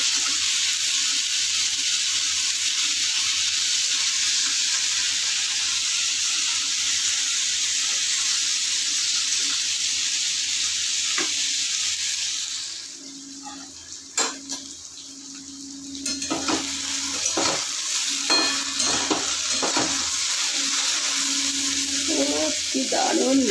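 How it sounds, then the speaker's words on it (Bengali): Taro stolons (lati) fry in a pan with no spices, giving a loud, steady sizzle. Midway the sizzle drops away and scattered utensil clinks and scrapes follow before the frying hiss resumes more softly. "এবার আমি দিচ্ছি লতিগুলো। ভালো করে ভেজে নেবো।"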